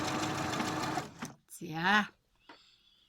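A Brother 60-stitch home sewing machine stitching fabric, a dense steady mechanical whirr for about a second, then a brief pause before a voice speaks over a short burst, ending in near quiet.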